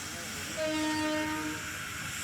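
A mountain train in the Andes pulls in and stops at Mina Concordia station, 4,144 m up. A rumbling rail noise carries a brief horn-like tone through the middle of the clip.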